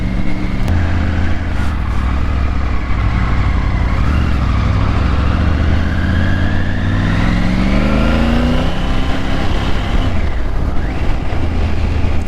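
Triumph 900 Rally Pro motorcycle engine droning loudly and steadily while riding, rising in pitch as it accelerates, then dropping back near the end with a brief pause before pulling again.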